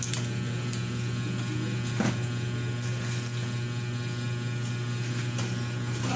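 A Sakura AV-5023US amplifier gives off a steady, loud electrical hum once powered on, droning evenly throughout with faint clicks and no talking.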